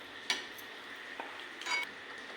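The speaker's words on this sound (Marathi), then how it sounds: "हे बघा आपण चांगलं आता ते हलवून घेऊ वाटाणे" Peas being stirred in a cooking pot, a few light metallic scrapes and clinks of a spoon against the pot over a soft background hiss, quiet and close.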